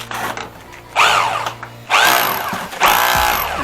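A rotary hammer drills into an old fireplace during demolition, firing three loud, close bursts of rough hammering with short pauses between them and a low steady hum underneath.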